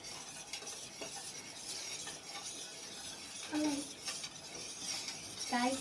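A jelly mixture for homemade jelly and ice cream is stirred in a pot, giving faint, continuous spoon scraping with occasional soft clinks.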